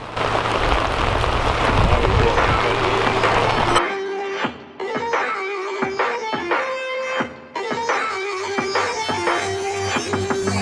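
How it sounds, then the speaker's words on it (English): A steady hiss of rain for a few seconds, then the rain fades beneath music with repeated plucked notes and tones. "And rain it did."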